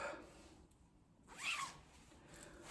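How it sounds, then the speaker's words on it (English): A zipper is pulled shut on a washing-machine laundry bag, one quick close zip with a soft rasp before and after, near and fairly quiet, no talking. "but zip it up"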